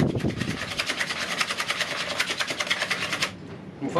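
Rapid rhythmic whirring of an electric mixer beating eggs and sugar for a cake batter, loud and close, stopping abruptly just before the end.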